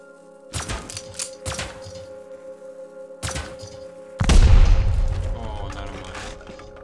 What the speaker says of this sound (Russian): Да, взрывы, конечно, вообще красивые